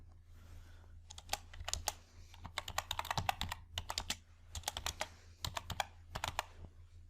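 Brisk typing on a computer keyboard while entering text in a spreadsheet, clusters of crisp, close key clicks in rapid bursts separated by brief pauses, against a quiet low hum.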